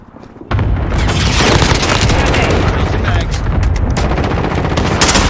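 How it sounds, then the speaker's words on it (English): Cluster strike explosions in Call of Duty: Modern Warfare multiplayer, beginning with a sudden loud onset and then a sustained, dense barrage of booms and blasts rolling on for several seconds under continuous rumble. "Enemy cluster strike incoming"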